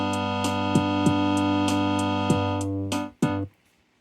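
An Omnichord OM-84 or OM-108 plays an auto rhythm pattern with chord auto on: a sustained electronic chord pulses under evenly spaced percussive ticks, then cuts off abruptly with a last couple of hits and fades to silence.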